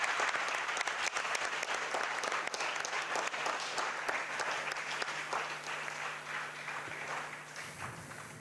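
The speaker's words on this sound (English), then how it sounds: "can we please give out a massive round of applause for all of these individuals?" A large audience at a district Christmas celebration in an auditorium claps steadily, dense sustained applause that gradually thins and fades near the end.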